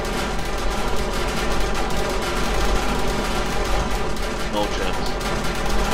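Rapid turret gunfire from the video game Borderlands, a dense continuous stream of shots with other battle noise in the background, heard under a voice talking.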